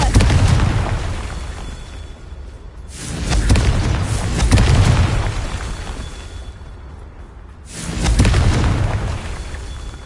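Confringo blasting spells explode in a Harry Potter video game, with three loud, deep booms rolling out in separate bursts, each swelling and then fading.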